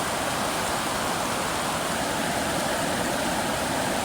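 Strong, deep river current churning into white water below a pool, heard as a dense continuous roar of rushing water, close and steady with no voices.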